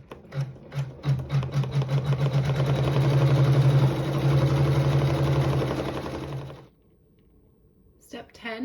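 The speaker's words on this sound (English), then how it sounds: "we'll sew a flower embroidery in both of the corners" An embroidery machine stitches a flower design, giving a steady, fast mechanical whir and rhythmic needle chatter at close range that runs for about six seconds and then stops abruptly.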